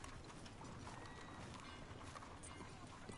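Horse hooves clop at a steady walk in Red Dead Redemption 2, a quiet rhythmic patter mixed with clicking tack and faint game ambience, with a soft whinny.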